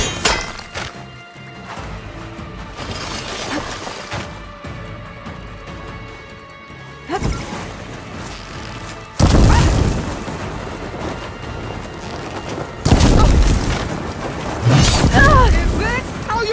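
Weapon reloading and firing in Horizon Forbidden West, with mechanical clicks followed by several heavy booming blasts spaced a few seconds apart, mixed with clattering impacts and game sounds.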